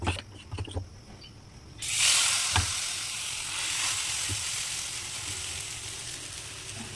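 Batter of flour, egg, gram flour, oats, onion, chilli and curry leaves hits a hot frying pan with a sudden loud sizzle that settles into a steady hiss, after a few soft knocks of handling.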